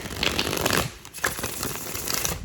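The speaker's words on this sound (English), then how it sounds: "One more shuffle and I got you guys." Tarot cards being shuffled by hand, a run of quick papery riffles and soft slaps for about two seconds with a brief pause in the middle, close and fairly quiet.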